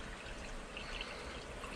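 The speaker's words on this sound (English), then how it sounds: "I'm going to add a little bit of more water to that" Water poured into a cooking pot, a steady soft splashing stream that runs continuously and faintly for under two seconds with no talk.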